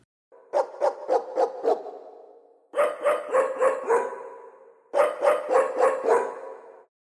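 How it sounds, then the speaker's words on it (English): Three bursts of deep, heavy dog barking, a Doberman and a German Shepherd layered together, each a quick run of four or five loud barks, separated by brief pauses. "I actually layered two different dogs together to make the single bark sound."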